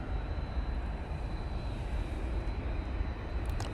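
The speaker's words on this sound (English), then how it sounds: "737-800 now touching down." A Boeing 737-800 from London Stansted touches down at Manchester Airport, heard as a faint, distant, steady broadband roar of engines and rushing air throughout.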